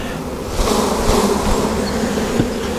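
Honeybees at an open hive buzzing steadily as frames are shaken off, a dense, close, continuous hum with a slight swell partway through.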